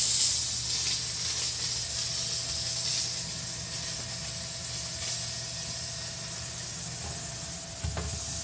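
A commercial steam cleaner hisses steadily and loudly throughout, a constant broadband rush with a faint tonal whine and a brief thump near the end.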